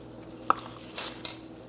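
A big spoon scraping and clinking against a bowl while scooping hot cocoa mix, three close, light metallic taps with faint rustle between.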